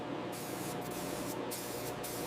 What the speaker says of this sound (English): Spraying markings on floor and pillars for the sections needing cutout and re-weld repairs.